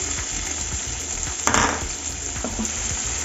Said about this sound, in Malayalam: നമുക്കതിലേക്ക് സവാള കൊത്തി അരിഞ്ഞത് ഇട്ട് കൊടുക്കാം